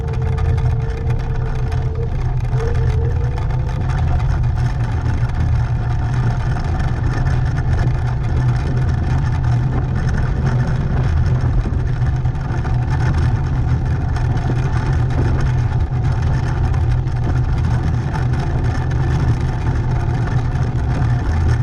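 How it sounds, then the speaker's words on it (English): A Turboant X7 Pro electric scooter with a 10-inch front wheel rides at 16 mph over crushed rock and leaf-covered gravel, giving a steady, loud, continuous rumble with wind and crunching texture throughout. "you'll see what 16 miles per hour on an electric scooter with a 10-inch front wheel looks like on crushed rock"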